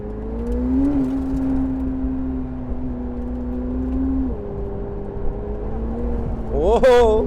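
A $1.7M hypercar runs on Sonoma Raceway, a sustained engine drone with gear-shift dips and a sharp rising rev surge at the end, heard from inside the cabin.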